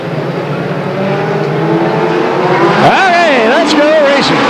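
Legends race cars at Stockton 99 Speedway, a steady roar of engines filling the track with rising and falling whines as cars pass, loud and continuous throughout.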